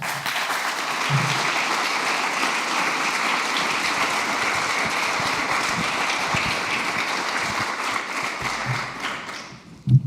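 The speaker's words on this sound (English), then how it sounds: "welcome Ha with a round of applause" Sustained audience applause at an architecture symposium, even and dense clapping from a full room for about ten seconds, fading slightly at the very end.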